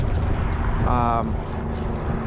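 Steady gusty wind buffets the microphone outdoors while bass fishing in freezing conditions, a low continuous rumble with a brief tonal hum partway through.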